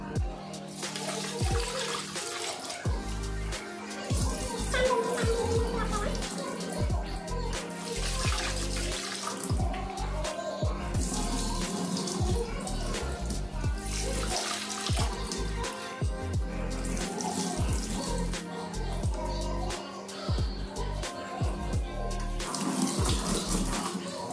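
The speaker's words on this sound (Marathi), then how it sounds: "आता आपण चांगलं मिश्रण हे धुवून घेऊया." Running water pours and splashes as rice and dal are rinsed under a tap, a close continuous rush with bursts of swishing and sloshing from hands stirring the grains, pausing briefly between bursts.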